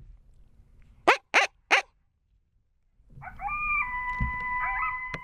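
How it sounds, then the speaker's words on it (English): An Alpha Dog electronic caller plays a pup serenade coyote call outdoors during a Kansas coyote hunt: three sharp barks or yips, a short silence, then a loud, sustained, wavering howl-like tone. "I'm now playing the pup serenade on the Alpha Dog electronic collar, trying to see if I can get some coyotes to talk back to me."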